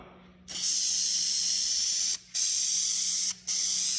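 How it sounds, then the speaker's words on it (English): Bursts of an aerosol spray paint can held upside down, hissing loudly and close, three sustained sprays separated by brief pauses, with no talking. "the can doesn't spray upside down"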